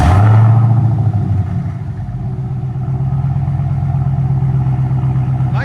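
A Dodge Hellcat Redeye with big muffler boxes in the rear, a mid-muffler delete and 5-inch tips idles. It gives a deep, steady, burbling rumble up close, starting with a brief louder swell before settling into an even low drone.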